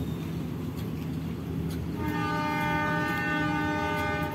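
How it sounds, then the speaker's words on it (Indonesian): At Padalarang station, a DF4D diesel locomotive rumbles low and steady, then halfway through sounds a loud, sustained horn blast that carries on over the engine's drone until the end. "Lokomotif DF4D bergerak ke arah timur."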